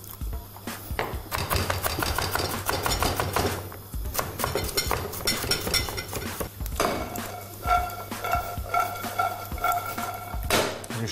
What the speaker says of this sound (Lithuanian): Aš susipjaustysiu morką.